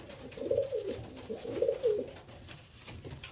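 Young racing pigeon cooing close by, a few soft rolling coos in quick succession, quiet and clear with no talk over them.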